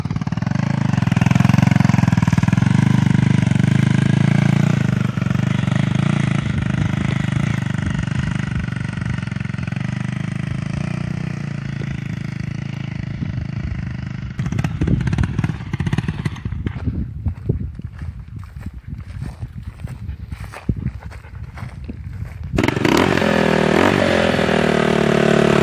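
A 250cc motorcycle with 12x48 gearing roars loudly nearby at steady high revs, then drops into a choppy, sputtering rhythm before revving hard again at the end.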